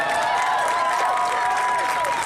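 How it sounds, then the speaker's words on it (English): A live gig audience claps and cheers in a steady, dense burst of applause, with sustained musical tones ringing underneath throughout. "I just like one more round of applause for the WNFC for having us out here"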